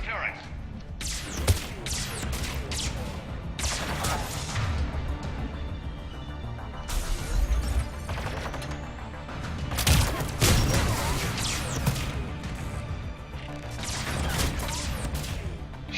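Turret gunfire and explosive impacts from the video game Mass Effect 3, on Insanity difficulty, come as loud repeated bursts and crashes over a constant battle din, with a voice speaking over them at times.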